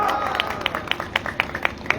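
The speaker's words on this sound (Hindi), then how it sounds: "कम से कम तुम लोग ताली तो बजेगा" Clapping from an audience at a live outdoor biraha folk music performance at a political party programme, a run of sharp claps building in a loose rhythm over steady crowd murmur.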